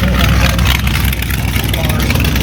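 A hot rod engine idles with a loud, lumpy rumble, steady and close by, as a voice speaks over it.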